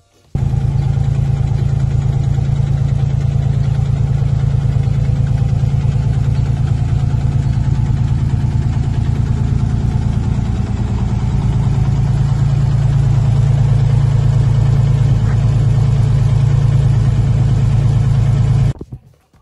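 A custom car built for the Hot Wheels Legends Tour, a finalist shown at the 24 Hours of Le Mans 2023, idles steadily and loud for about eighteen seconds, a deep continuous rumble with slight revving variation and no talk.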